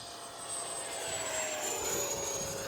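An FMS 70mm Viper 15th Anniversary Edition electric ducted-fan model jet makes a full-speed pass downwind, a thin, fairly distant whine that swells slightly and drops in pitch as it goes by.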